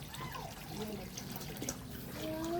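Water poured into a large cauldron heated over a wood fire for a hot bath, a faint trickling and splashing under soft background noise with light voices.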